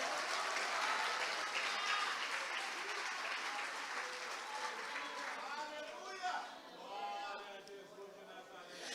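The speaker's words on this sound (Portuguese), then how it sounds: "Agora pode aplaudir" Applause from a church congregation fills the room, dense and steady, then thins toward the end as voices and murmuring come through.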